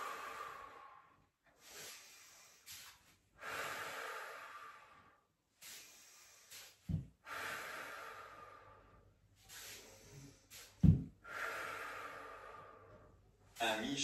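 Repeated breaths drawn in and out during a wall pilates session, broad airy hisses in a slow rhythm of about six cycles, moderately close, with a couple of sharp thumps partway through.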